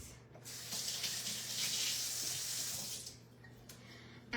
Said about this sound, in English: just wash my hands.